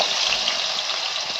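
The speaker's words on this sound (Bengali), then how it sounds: "তেল গরম হয়ে গেছে, এবার এখানে আলুটা ঢেলে দেব।" Potatoes poured into hot cooking oil sizzle with a steady, loud, hissing fry that holds evenly throughout, with no talking.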